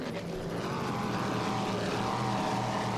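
A 36-foot Cigarette racing powerboat with twin Mercury Racing 525 engines at an offshore grand prix, a loud, steady droning engine roar that holds without a break, with no talking.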